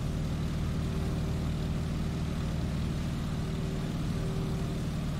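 A Boeing Stearman PT-17 biplane engine at full propeller RPM in the MS Flight video game, a steady loud low drone with a continuous buzz that holds unchanged and alone throughout.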